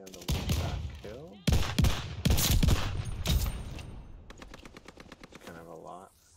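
Rapid machine-gun fire from a Call of Duty match comes in several loud clattering bursts, fading into quicker lighter shots near the end, while players talk over the action.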